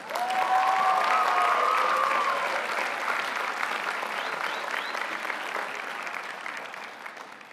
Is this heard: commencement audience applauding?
yes